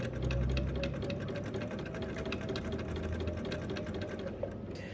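A sewing machine runs steadily during free-motion appliqué outline stitching, its fast needle rhythm a continuous close hum and rattle with no pauses and no voices.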